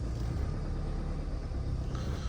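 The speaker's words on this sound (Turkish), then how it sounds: "Ya bu arabanın sesini seviyorum arkadaşlar. Ya dizel, dizel sesini çok aşırı sevmem ama bunun böyle bir tatlı bir tırıltısı var arkadaşlar ya." A Ford Tourneo Connect diesel engine runs with a low, steady rumble and a faint rattle, heard from inside while driving in rain, moderately quiet and without talk.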